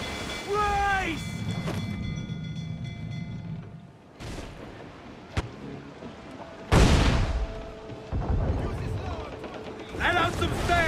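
Cannon fire roars during an Assassin's Creed 4 naval battle: several heavy booms and sharp cracks hit amid creaking ship mechanisms and rushing sea noise, with shouted crew voices mixed in.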